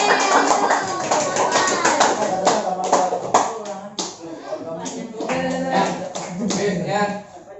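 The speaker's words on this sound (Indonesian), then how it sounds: "Tepuk tangan buat." A group at a hotel gathering claps in a burst of applause, with sharp, uneven hand claps mixed with voices.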